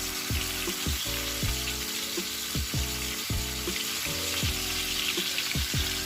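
Fish sizzles steadily in hot coconut oil for a Kerala fish molee, with a close, even frying hiss and a layer of bubbling crackle running throughout.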